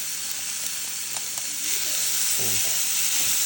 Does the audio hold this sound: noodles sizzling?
yes